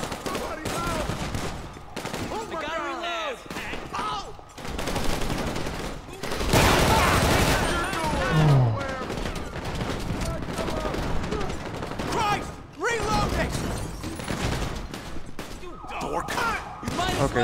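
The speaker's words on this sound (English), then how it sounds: "they're shooting. They're still shooting." Shooters firing in Grand Theft Auto V with the LSPDFR police mod: dense bursts of rapid automatic and single gunshots crackle almost nonstop, loud and close, with someone talking excitedly over them.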